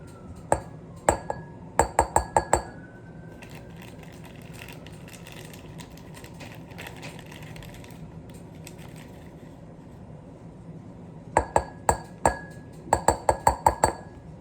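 Glass beaker clinking as starch is measured for a bioplastic demo: bursts of sharp, bright clinks and taps at the start and again near the end, with a quieter stretch of faint handling noise between.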